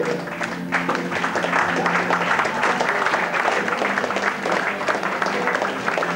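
A group of young children claps together in a lively, uneven patter, close and fairly loud, with a few small voices mixed in over the steady applause.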